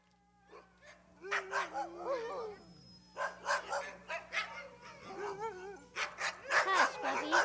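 Several puppies bark, yip and whimper in overlapping bursts, close and lively, with high squeaky yaps rising in rapid clusters and short pauses between outbursts.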